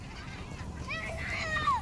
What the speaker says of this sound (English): so many gulls